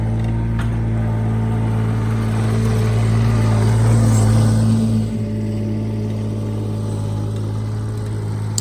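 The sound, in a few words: Bobcat 463 skid steer engine running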